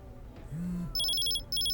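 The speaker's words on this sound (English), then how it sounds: "your pager beeps or it buzzes" Pager going off, two bursts of rapid high-pitched electronic beeping, short and clear after a faint low tone.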